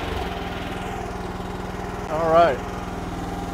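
A KYMRON XH14 mini excavator with a Parker USA hydraulic pump runs steadily nearby, its engine rising briefly as throttle is given, with someone speaking briefly over the drone.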